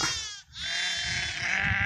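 A young lamb bleats in a long, wavering, nasal cry, briefly breaking off and then continuing steadily, close by in a farm setting where peanut husk fodder is being unloaded.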